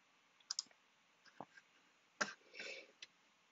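Faint, sparse clicks in a quiet room, a computer mouse clicking on a Raspberry Pi screen, with a soft throat-clearing noise midway.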